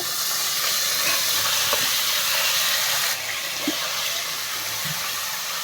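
Curry leaves added to hot oil with mustard seeds, a steady close sizzle and hiss that drops a little in level partway through, with a few faint pops and no talking.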